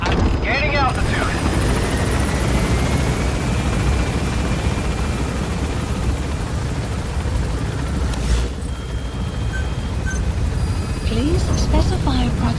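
A helicopter gaining altitude in the video game Metal Gear Solid V: The Phantom Pain, a loud continuous rotor and engine roar with a rumbling low end, while voices talk over it.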